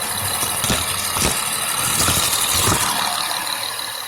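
A 2005 Acura RL engine idles steadily nearby with a low, even hum, broken by a few faint taps and clicks.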